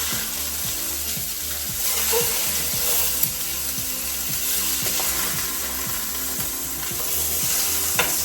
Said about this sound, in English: I'm gonna get the salmon nice and crispy.